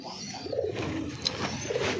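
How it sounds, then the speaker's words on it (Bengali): Two pigeons cooing softly up close, with low burbling calls rising and falling over a steady background hiss. "অনেক সুন্দর দুইটা কবুতর মাশাআল্লাহ"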